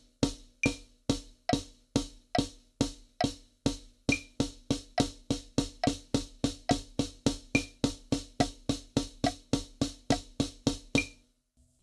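A drum kit plays a steady run of eighth notes, each stroke a sharp, close, loud hit with kick and snare accents and a bright cymbal on top, evenly spaced for about eleven seconds with no talking.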